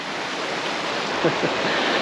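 A creek runs steadily past log jams, rocks and fallen trees, its broad rushing wash filling the air without a break, with a few faint bumps partway through.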